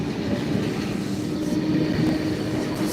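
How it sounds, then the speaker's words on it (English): A passenger train bound for Lithgow slows into a station, a steady low rumble of wheels and carriages with faint rail noise, heard from nearby and without talk. "that train that's off to Lithgow. For some reason it's stopping."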